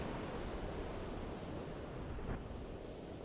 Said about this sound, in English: We are in horrible seas here.